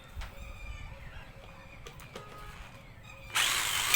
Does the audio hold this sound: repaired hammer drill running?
yes